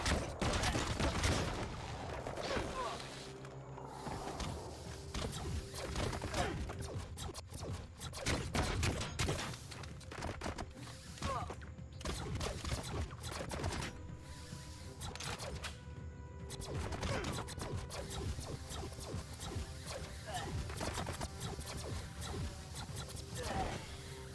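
Rapid gunfire from newly acquired weapons in the video game Biomutant crackles in dense bursts across a busy, noisy mix of game effects and voices.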